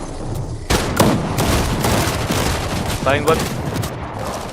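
SMG gunfire in a Fortnite match at the FNCS Major 1 Grand Finals: dense, rapid bursts of shots that go on through the whole stretch, loud and close, with a voice talking over them.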